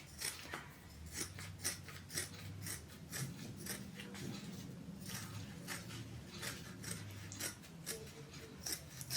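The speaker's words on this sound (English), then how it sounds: "I'm just going to cut through both of them." Scissors snip through needle punch coasters in a steady run of crisp, close cuts, repeated blade closes with a slight rasping scrape.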